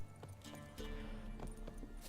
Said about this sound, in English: I really don't enjoy horse riding in The Witcher 3